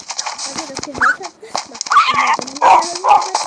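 A dog squeaks and whines in a string of high, wavering yelps and squeals, close and fairly loud, with short breaks between the cries.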